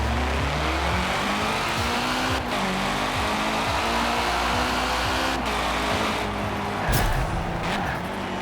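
A 1992 Nissan Silvia Club K's, C-Class car in Forza Horizon 4, drives steadily with a continuous engine drone, shifting gears and brief tire squeal, loud and close throughout with no talking.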